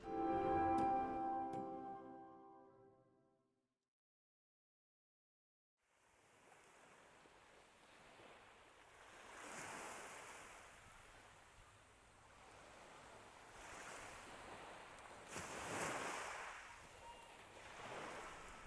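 Waves at a seaside beach roll in and break in slow surges, rising and falling as soft, distant washes of surf after a brief musical passage and a moment of silence.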